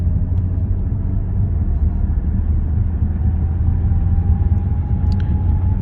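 A 2022 BMW M440i Gran Coupe cruising on the highway at 70 mph, heard from inside as a steady, loud low road-and-engine rumble with a faint tone rising slightly in the middle.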